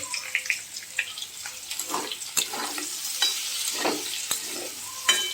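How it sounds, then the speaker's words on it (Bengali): Potatoes with salt and turmeric are sautéed and stirred in a pan for alu posto, giving a soft, steady sizzle broken by irregular scraping and clinking as the spoon turns the pieces, close and moderately loud. "লবণ আর হলুদ দিয়ে আলুটা এভাবে ভালো করে কষিয়ে নেব।"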